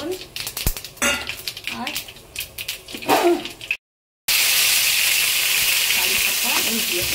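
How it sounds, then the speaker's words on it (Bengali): Mustard seeds hit hot oil for a sambar dal tempering and burst into a loud, steady sizzling hiss. Before it, a voice speaks over clinking kitchen sounds, then there is a brief silence. "সর্ষে ফোড়ন দিয়ে দিল"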